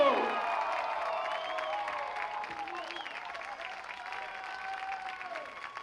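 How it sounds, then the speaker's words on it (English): Crowd applause and cheering for Miles, a race winner who climbed from 10th on the grid to his first road-course win at Indy in New Jersey, with steady dense clapping throughout and voices shouting and talking over it. "A round of applause for Miles."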